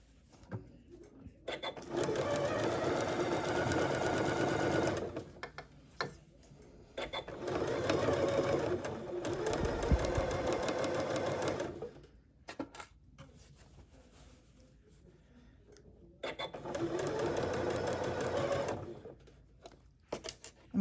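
A sewing machine stitching the seam of a scarf, running in three long steady bursts of rapid whirring, each separated by short pauses with small handling clicks, close and alone.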